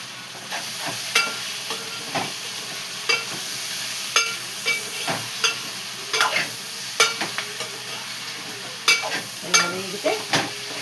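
Eggplant pieces fry in a pan with a low steady sizzle, punctuated by frequent sharp scrapes and clinks as a spatula stirs them, close and fairly distinct.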